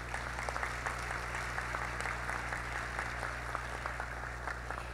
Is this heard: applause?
yes